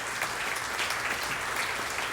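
A crowd claps steadily as dance music winds down at a celebration, giving dense, even applause throughout with no music or talk standing out.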